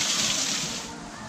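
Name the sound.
waterfall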